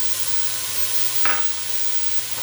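Onions and carrots fry in a pan over high heat, a steady soft sizzle with a brief stir or clink near the middle, no talking.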